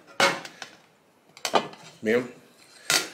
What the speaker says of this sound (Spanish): Les voy a mostrar la olla palomera.